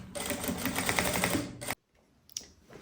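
A sewing machine runs steadily, a fast rattling stitch on fabric scraps for a puffer backpack seam, then stops abruptly into near silence, followed by a brief knock of handling.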